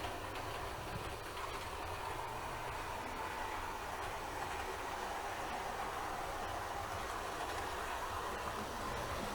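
Model railway train rumbling steadily through a layout station, a continuous close mechanical running noise of wheels and motor with no break, heard alone without talk.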